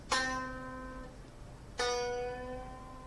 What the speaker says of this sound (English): a string bend and bend it up to the next note